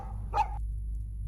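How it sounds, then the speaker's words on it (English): A single sharp dog bark sounds in a horror video game, clear and fairly close against a low, steady background hum. "I don't think the dog likes me."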